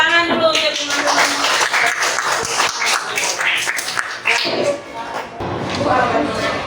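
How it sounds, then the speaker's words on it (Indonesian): Classmates in an elementary school classroom applaud together, a dense, continuous patter of many hands clapping close by with children's voices chattering over it throughout. "Tepuk tangan dulu untuk teman-teman."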